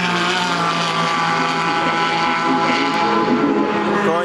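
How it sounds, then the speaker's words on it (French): A BMW race car engine in a racing video game holds a steady, loud, harmonic drone throughout, with no break in the tone and no voices over it. "les BM elles font vraiment le même bruit que les BM de route"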